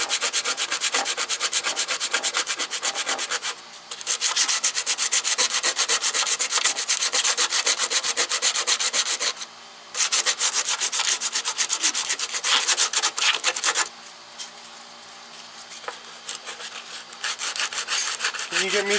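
A power sander grinds a VW MK2 engine bay down to bare metal, loud and close with a harsh continuous rasp that pauses briefly twice and then continues at a lower, rougher pitch.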